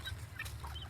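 Chickens bred from a Bangkok fighting rooster crossed with laying hens give short clucks close by over a low background hum, with no talk.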